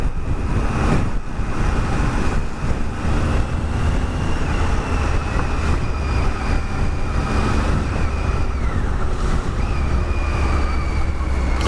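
Triumph Tiger 800 XCA motorcycle ridden off-road, a steady loud engine and wind roar with shifting whine as gears change, heard close from the rider's position, with no talk.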